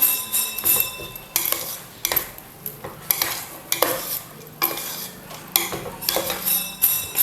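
A spoon stirs boondi-style ingredients into thick sugar syrup in a metal pan, giving repeated scraping and clinking strokes in an uneven rhythm over a soft bubbling background, loud and close.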